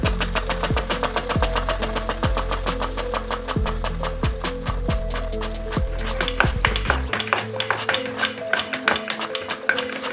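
A small 4-stroke air engine with a tuned push rod runs on low air pressure, starting with slow, heavy, regular thumps and speeding into a fast, even mechanical clatter, close and distinct.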